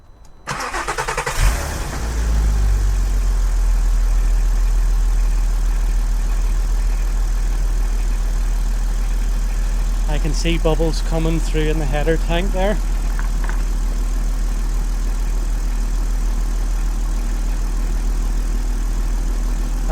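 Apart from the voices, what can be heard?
Mk5 Golf R32 engine idling after start-up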